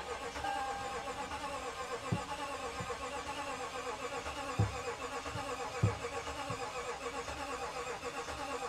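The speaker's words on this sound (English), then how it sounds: "She does not want to start at all." A Toyota Tundra engine cranks but fails to start, producing a steady, churning starter whir with a few brief thumps along the way and no catch.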